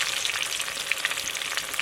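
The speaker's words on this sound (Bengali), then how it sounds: "তেল গরম হয়ে গেছে, এবারে একটা একটা করে বেগুন দিয়ে ভেজে নেব।" Eggplant slices fry in hot oil, giving a dense, steady sizzle with small crackling pops throughout, close and alone.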